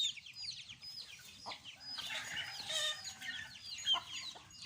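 Gamecock chicks clucking and chirping in a busy cluster, bright overlapping calls rising and falling over a low rumble of background noise.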